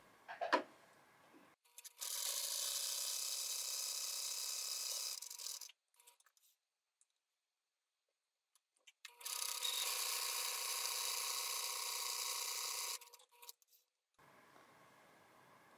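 A sewing machine runs gathering stitches along the waist seam allowance of a doll-size skirt for a Blythe apron dress, in two long steady whirring bursts separated by a quiet pause, close up with no talking.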